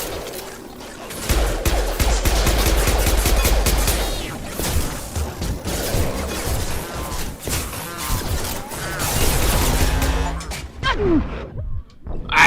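Gunfire in the sci-fi shooter Mass Effect 2: loud, rapid bursts of weapon fire and impacts packed densely over a combat soundtrack, with voices calling out between the shots.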